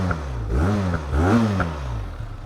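Benelli TRK 502 motorcycle engine heard from inside the rider's helmet, a muffled exhaust note rising and falling through a couple of revs before settling to a steady idle.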